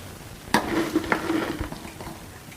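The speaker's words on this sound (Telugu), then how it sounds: "సాసులు జీలకర్ర వేసుకున్నాను దాంతోపాటు శనగపప్పు ఒక టేబుల్ స్పూను ఉద్దిపప్పు one and half table spoon కూడా వేసుకొని దోరగా వేయించుకుందాం" Cumin seeds, chana dal and urad dal fry in hot oil, a soft steady sizzle close by, broken by a few sharp stirring clicks against the pan.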